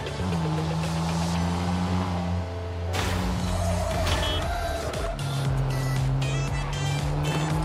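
A car driving in the open-world video game NTE, its steady engine drone running continuously with shifting tones and a brief impact-like jolt partway through, loud and close with no talk over it.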